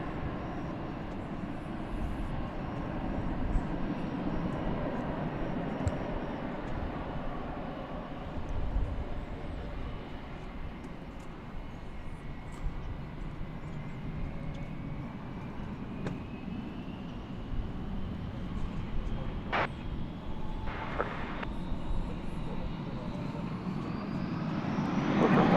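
An American Airlines airliner takes off from runway 18 left at Dallas Fort Worth airport, heard from a distance as a broad rumbling jet roar that builds with a slowly rising whine.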